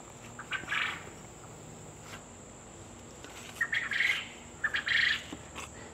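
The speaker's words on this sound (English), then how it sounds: "You can hear the quail over here." Quail calling outdoors, a few short chirping calls at moderate distance over a steady insect-like hum, no voices.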